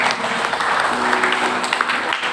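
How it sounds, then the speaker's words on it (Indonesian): A church congregation at a Sunday worship service breaks into steady, loud applause, dense clapping that fills the room throughout, with faint voices mixed in. "Mari kita berikan tepuk tangan."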